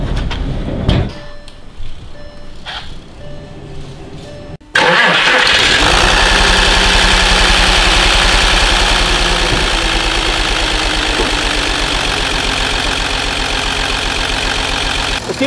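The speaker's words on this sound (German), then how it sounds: "Und einmal Motor starten, dass ich euch das mal zeige." Volkswagen Touareg V6 diesel with a dead first cylinder, smoking heavily: after a few quiet seconds of faint knocks the engine cranks and catches, then settles into a loud, steady idle with an uneven, rough undertone.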